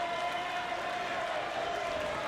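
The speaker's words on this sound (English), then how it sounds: "As he gets a standing ovation from this crowd." A wrestling crowd gives a standing ovation for a returning veteran wrestler, with steady applause and cheering that stays fairly distant and even throughout.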